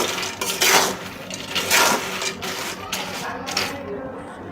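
Peanuts are stirred and roasted in hot sand, giving a continuous gritty, rattling scrape with bursts of clattering as the mix is turned over, close by, while someone talks over it.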